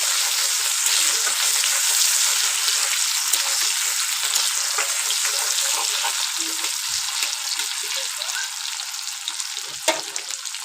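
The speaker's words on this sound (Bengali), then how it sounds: "টমেটোটা একটু ভাজা ভাজা হোক।" Chopped tomatoes frying in a pan after eggs have been fried and removed, giving a steady, close crackling sizzle with occasional scrapes and stirs, no voices.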